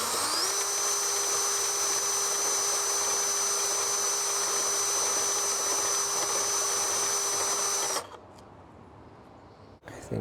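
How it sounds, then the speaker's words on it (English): Power drill whining at a steady high pitch while it cuts an opening, running continuously for about eight seconds and then cutting off abruptly, followed by faint handling noise. "maybe I could improvise a little bit with the drill and make a tiny little bit better opening"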